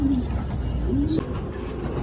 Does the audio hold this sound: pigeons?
yes